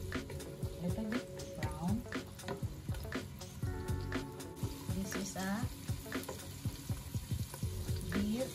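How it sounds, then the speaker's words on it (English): Red onions sizzle and fry in a pan for a beef and broccoli stir-fry. The crackling is steady and close, with repeated clatter of stirring against the pan. "red onions. Just leave it fry, or it's become like a little bit tender"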